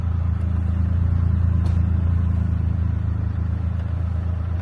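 Ford Ranger truck on a 91-octane tune in sport mode accelerating hard on gravel, giving a steady, loud low engine rumble that holds through the whole stretch with no talk.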